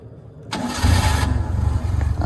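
An old car's engine cranks and catches about half a second in, then settles into a loud, steady idle with a low rumble that continues to the end, with no talking.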